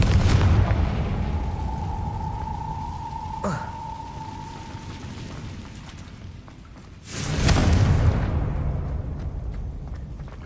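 Confringo spell blasts in Hogwarts Legacy, two sharp fiery bursts several seconds apart, the second louder and longer, over a low ambient rumble with a sustained magical tone between them.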